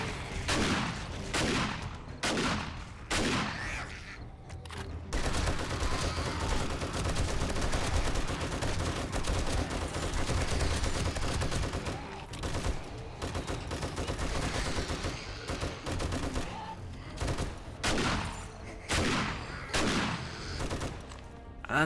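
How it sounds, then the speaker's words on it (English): Rapid shotgun blasts in the survival video game 7 Days to Die, a dense stretch of loud overlapping gunfire in the middle framed by sharper, separated single shots at the start and end, close and aggressive. "This shotgun is just so good."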